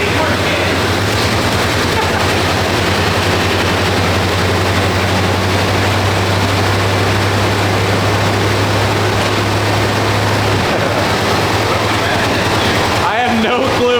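A high-mileage Chevy OBS pickup with around 250,000 miles runs hard on a large shot of nitrous, its engine a loud, steady roar with a sustained low drone under wind buffeting that cuts off near the end.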